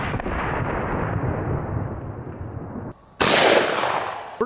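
A 500 Smith & Wesson Magnum Performance Center revolver with a 10.5-inch barrel firing a 700-grain hard cast round outdoors: rumbling noise gives way to one sharp, loud blast near the end, followed by a decaying echo.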